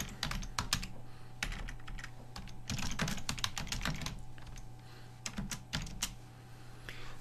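Steady typing on a computer keyboard, quick bursts of close key clicks with short pauses, over a faint constant hum and no talking.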